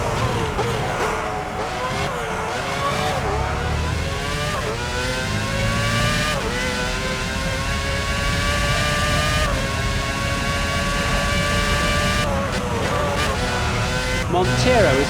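Formula 1 cars in the PS2 racing game F1 06 at the French track, screaming engines rising and falling through gear changes, loud and continuous, with race commentary talking over them.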